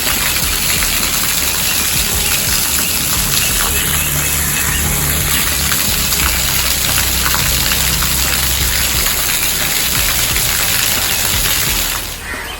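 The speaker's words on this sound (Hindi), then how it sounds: "अभी तीनों टंकी का पानी निकलेगा" Water pouring from three burst rooftop water tanks, a loud continuous close rush and splatter like heavy rain that runs unbroken for about twelve seconds before easing slightly at the end.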